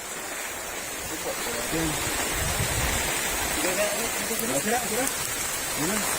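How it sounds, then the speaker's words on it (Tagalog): Heavy rain pours in a dense, steady hiss close by, while people talk underneath it. "napakalakas yung ulan hapon ha"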